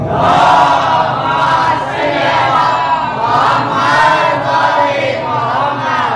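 A large crowd chants salawat slogans together at a community gathering, loud rhythmic massed voices rising and falling in repeated waves for several seconds, with no other sound over them.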